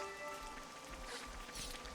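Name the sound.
rain in video game Xenoblade Chronicles 3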